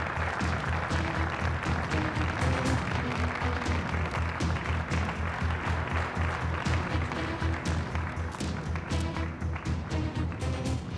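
Dense, sustained applause fills a hall as Ali goes on stage, loud and continuous clapping mixed with steady background music.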